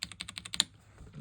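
Rapid run of about eight crisp clicks from typing on an ROG Azoth mechanical gaming keyboard, close and evenly paced, then a short quiet tail.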